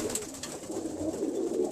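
Pet birds cooing softly in a room, a low, continuous burbling coo with a few fainter high chirps in the background.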